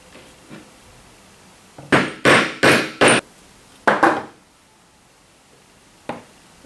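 A special collar-button tool cutting a hole and slit in fabric at the same time, giving sharp close thuds: four quick strikes in a row, a pause, two more, then one last hit, with no talking.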